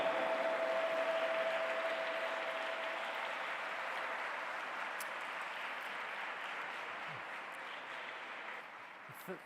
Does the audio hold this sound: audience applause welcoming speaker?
yes